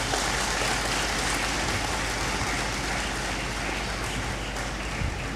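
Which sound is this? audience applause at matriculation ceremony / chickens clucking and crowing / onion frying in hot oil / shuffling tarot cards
audience applause at matriculation ceremony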